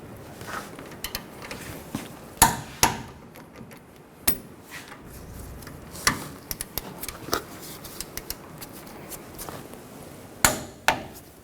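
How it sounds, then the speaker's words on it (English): Brake caliper bolts on a 2007 Chevy Silverado 1500 Classic front brake job are torqued with a wrench, giving scattered sharp metallic clicks and ticks, close and crisp over a quiet background, with no speech. "Now we're going to torque these bolts to 133 foot-pounds."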